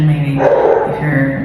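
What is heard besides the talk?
pet dog barking in background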